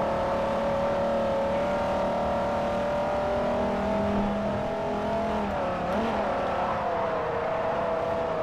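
A Devin GTX race car engine in Forza Motorsport 4 drones steadily through a race, its whine holding a sustained pitch, shifting slightly near the middle and then resuming, loud and continuous with no voices.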